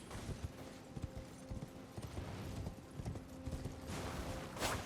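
Hooves clop in a quick, steady rhythm as a horse gallops in Elden Ring, over a busy game soundscape with creaks and mechanical noise, ending in a brief whoosh.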